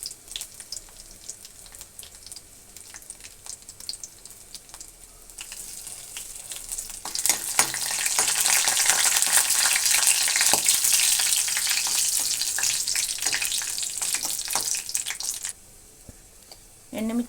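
Dried red chillies and garlic frying in oil for an okra curry, a soft crackle that swells into a loud, dense hiss midway and then drops back, with light utensil knocks throughout.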